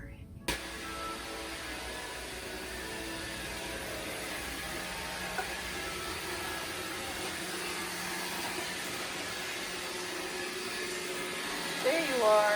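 Robot vacuum, a Roomba, cleaning an apartment: a steady, even motor whir and brushing hum runs throughout at moderate level, with a few small knocks and a brief rise near the end.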